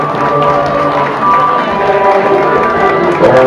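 Audience applause and cheering for a São João march parade in Castelo de Paiva, a steady loud crowd roar with clapping filling the whole stretch, music and voices mixed underneath.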